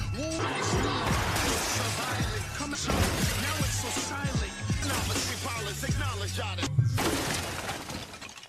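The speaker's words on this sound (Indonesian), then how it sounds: "Semua perangkat elektronik dibuat hancur oleh Tommy" Electronic devices smashed to pieces inside a house, a loud continuous run of shattering and crashing impacts with breaking debris, close and dense throughout, with a low steady tone underneath.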